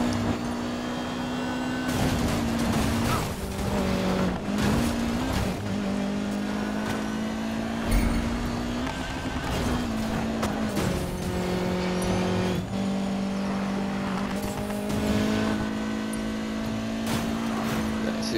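Race cars speeding through a Need for Speed Payback race, a loud sustained engine drone with revving pitch shifts and brief whooshes and skids, continuous for nearly twenty seconds with a voice talking over it.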